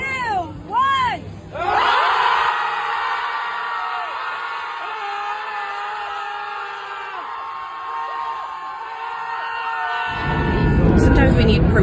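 A crowd at a political gathering screams together at length after a countdown, a sustained loud massed yell held for several seconds before giving way to a burst of cheering.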